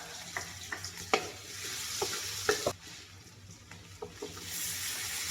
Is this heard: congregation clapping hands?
no